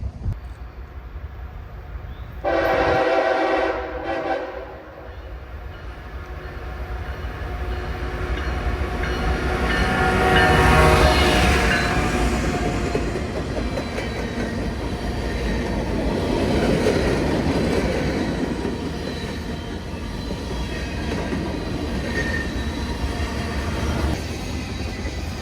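A train rolls past with a short horn blast near the start, then a long, loud rumble of wheels and cars that swells and stays close throughout.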